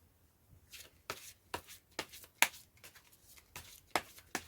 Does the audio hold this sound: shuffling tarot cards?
yes